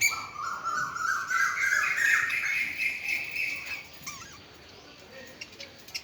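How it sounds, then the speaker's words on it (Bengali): Pet lovebirds give loud, shrill squawks and rising chirps close by, calling almost continuously before fading to quieter background sound near the end. "আর এরা তো লাভ বার্ড"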